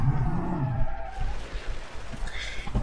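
A car in BeamNG.drive brakes hard on a test track, its tires squealing and skidding loudly up close before the sound fades into road noise.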